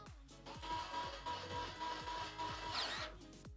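A small electric screwdriver drives screws into a Corsair 5000D PC case, with repeated short whirring bursts and clicking ratchet sounds close by, a brief scrape near the end.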